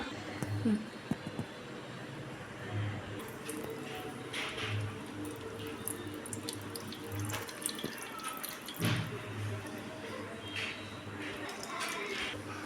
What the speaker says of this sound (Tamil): இதை ஃபில்ட்ரு பண்ணிக்கலாம்